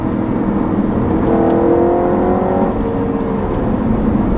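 A 2013 Audi RS5 engine hums and revs up with a rising whine, heard steadily from inside the cabin.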